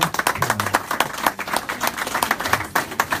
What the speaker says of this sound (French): j'ai le plaisir d'accueillir avec nous Oscar, sous vos applaudissements.